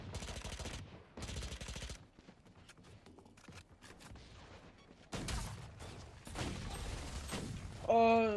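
Bursts of weapon fire in the shooter game Valorant, several loud volleys separated by quieter gaps with scattered single shots, a voice talking in between.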